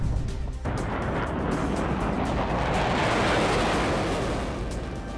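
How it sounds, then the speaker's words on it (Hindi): A dense, roaring blast sweeps in after a brief moment and rumbles on continuously, loud and heavy like explosions or artillery on a battlefield in the Russia-Ukraine war, with no voices. "जैसे ही वहां पर धमाका होने लगा घायल यूक्रेनी जवान का रेस्क्यू कर रहे रूसी जवान भाग खड़े हुए"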